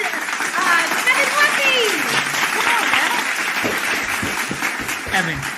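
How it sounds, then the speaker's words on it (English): A studio audience gives a sustained round of applause for a guest arriving on a live talk show, steady and fairly loud throughout, with cheering voices and brief talk mixed in. "We always give somebody a round of applause."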